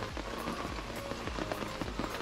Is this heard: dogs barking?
no